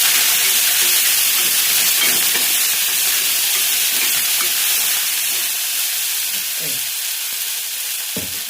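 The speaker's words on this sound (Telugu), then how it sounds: "మంచిగా కలుపుతాం" Chicken curry with green chillies, mint and coriander being stirred in a hot pan, a steady sizzle and hiss with scraping strokes of the spoon, close and continuous with no talking.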